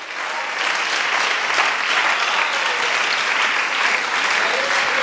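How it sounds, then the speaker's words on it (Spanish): A church congregation claps loudly together during a service, a steady and dense wall of applause that continues throughout, with voices mixed in underneath. "Dele un aplauso fuerte al Señor en esta hora."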